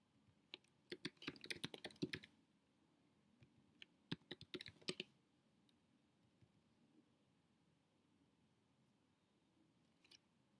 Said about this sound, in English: I'm just typing in the password again.